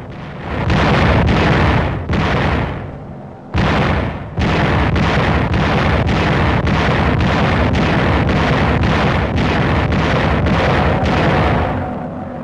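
Heavy explosions and rapid anti-aircraft fire during enemy air raids on airfields and shipping at Leyte, a loud dense wall of booms and bursts nearly continuous, with rhythmic pulses and one brief gap.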